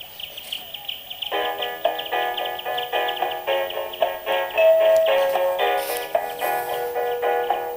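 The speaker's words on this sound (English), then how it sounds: "he's a chirping cat skull" A toy cat skull gives off rapid electronic chirps and warbling tones in a continuous, buzzy stream, close up and fairly loud.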